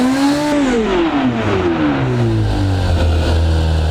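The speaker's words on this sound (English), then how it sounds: "That was a good sounding engine." A rear-wheel-drive Bugatti Bolide supercar engine in the game Automation revs loudly and alone, pitch climbing then sweeping down into a deep, steady rumble over about four seconds.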